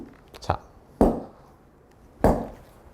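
Three sharp thuds of a golf club striking the ground, spaced about a second apart, close and fairly loud with quick decay.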